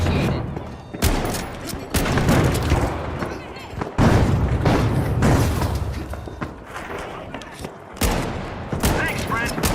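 A flashbang grenade bursts amid a video-game firefight, and loud booming blasts and gunshot volleys repeat every couple of seconds. Speech can be heard through the din.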